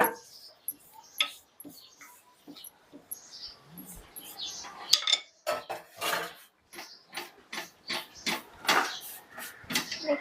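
A spoon stirs butter chicken in a kadhai, making intermittent metallic scrapes and clinks that grow busier and more rhythmic toward the end, with faint bird chirps in the background.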